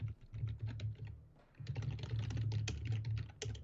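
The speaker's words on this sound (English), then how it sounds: "Listen to him typing." Fast, hard keyboard typing with dense clattering keystrokes over a low steady hum, pausing briefly midway before resuming.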